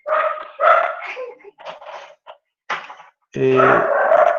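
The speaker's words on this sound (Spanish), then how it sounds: "Disculparán el querido ladrido de los canes que tengo acá" Several dogs bark in short, loud bursts, some yipping, with pauses between volleys and a sustained burst of barking near the end, close by in a home setting.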